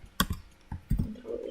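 Computer keyboard keys clack for a Ctrl+X cut shortcut: a few sharp, close presses in quick succession, alone without talk.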